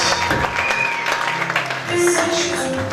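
A church congregation applauding and cheering for Jesus, steady loud clapping with crowd voices that swells near the end.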